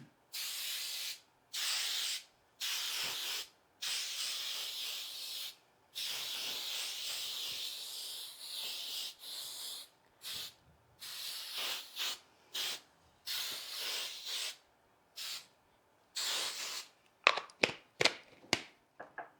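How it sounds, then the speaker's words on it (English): Hairspray from an aerosol can misted over a cut hydrangea arrangement, a run of close, steady hissing bursts separated by short pauses, ending in a quick flurry of brief sprays. "Now, we spray the whole thing with hairspray"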